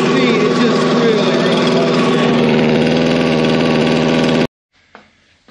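A Stihl BG56C gasoline leaf blower with a fault that stops it reaching full speed runs loud and steady with a buzzing two-stroke drone up close, then cuts off abruptly and leaves a few faint clicks.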